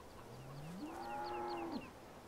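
Cattle in the Farming Simulator 17 video game give a single clear moo, rising then held for about a second before dropping off, heard alone over a quiet background.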